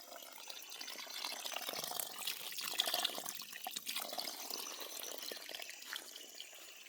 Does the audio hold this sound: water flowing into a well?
yes